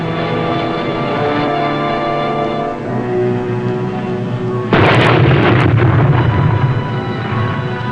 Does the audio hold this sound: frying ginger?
no